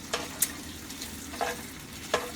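Ground beef fries in oil in a pan with a constant close sizzle. A few sharp stirring scrapes and clinks break through at irregular moments.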